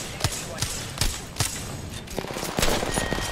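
Gunfire in Apex Legends: sharp rhythmic shots about every half second, loud and close, turning into a denser burst near the end, while someone talks excitedly over it.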